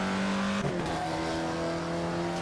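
Alfa Romeo 33 Stradale in Assetto Corsa, a high-revving engine holding a loud, steady, tonal drone with a quick shift blip partway through, close and alone.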